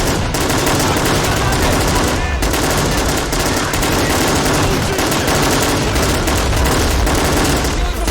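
RPGs and gunfire in the Army Men of War battle game, dense continuous barrage of shots and blasts, loud and unbroken throughout with muffled talk underneath.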